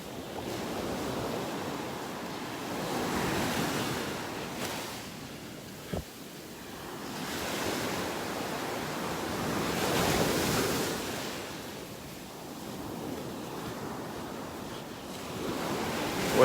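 Surf rolls onto a beach in North Naples, Florida, in slow recurring swells of washing waves with soft wind noise, alone and fairly close, with one brief knock partway through.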